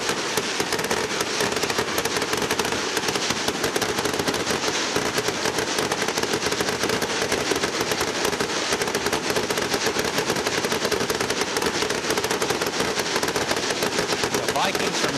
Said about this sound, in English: Firework action here tonight, Brian.